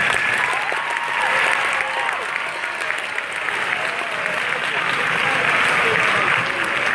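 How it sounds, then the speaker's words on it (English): Audience applause at a school band concert, a full, continuous round of clapping from a large crowd with faint cheers and voices mixed in. "So let's give them a big round of applause"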